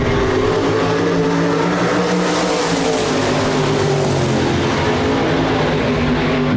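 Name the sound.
hobby stock race cars racing on speedway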